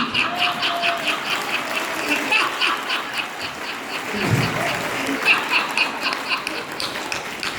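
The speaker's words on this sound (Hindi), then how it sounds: "ताली इस बात पर बजाइए" A crowd claps loudly and continuously at a Hindi poetry gathering (kavi sammelan) at Gateway International School in Sonipat, the dense applause holding steady for several seconds.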